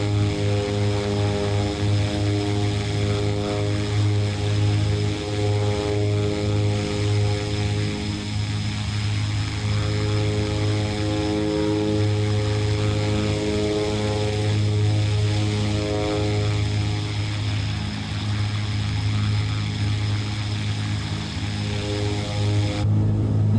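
Twin propeller engines of a Beechcraft Duke in a flight simulator give a steady, loud, droning hum with a strong tonal throb that holds for the whole stretch, with no voices.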